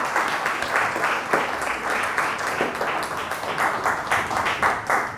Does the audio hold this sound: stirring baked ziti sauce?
no